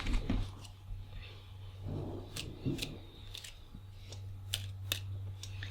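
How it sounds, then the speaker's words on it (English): Soft riffling and shuffling of cards with scattered light clicks and snaps over a low steady hum, no talking. "do you want to mix them up a little bit, shuffle them."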